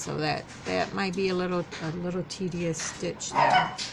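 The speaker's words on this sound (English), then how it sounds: "Excuse my dog in the background." A pet dog barks and yips in the background from indoors, looking out a patio window, with short bursts under steady close talk from a person explaining crochet stitches.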